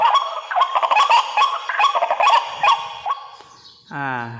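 Rapid, repeated red junglefowl calls played from a loudspeaker used as a hunting lure, with a slightly electronic quality, a busy run of clucking notes followed by a short harmonic cry near the end.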